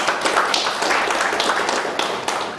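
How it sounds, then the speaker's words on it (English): Audience at a professional study circle meeting in Bangalore applauding, a dense, continuous patter of many clapping hands at close range that stays lively for the whole stretch, with no one speaking. "A round of applause for the fantastic session."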